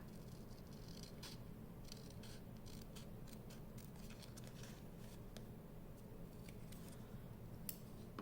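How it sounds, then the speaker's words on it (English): Scissors snip through material while assembling a traveler's notebook, a series of faint, crisp cuts at close range over a steady low background hum. "me cut this off here."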